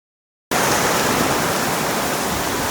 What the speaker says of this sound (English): the rain has gotten even harder and more intense than it was before